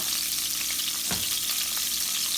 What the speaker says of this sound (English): And then we're going to fry those. Medium high heat, guys.